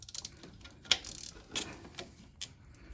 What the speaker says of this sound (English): And just get my socket onto there to release the valve.